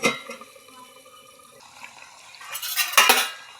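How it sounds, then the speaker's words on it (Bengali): A lid set down on a pan of home-style rohu fish curry, with a metallic clatter and rattle near the end after a quieter stretch of simmering kitchen noise. "এবার আমি এটাকে চাপা দিয়ে দেবো"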